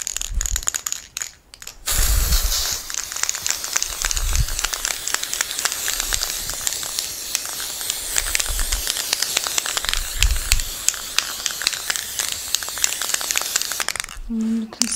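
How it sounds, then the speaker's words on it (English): An aerosol can of edible pearl lustre spray hisses in long continuous bursts over a decorated Frozen Elsa cake, close and steady, with brief pauses between sprays. "I'm going to use something called Pearl Edible Lustre Spray. So we're going to spray it all over her cake."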